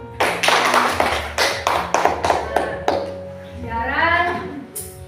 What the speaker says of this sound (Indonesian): Ini kita buat aplaus untuk kita semua.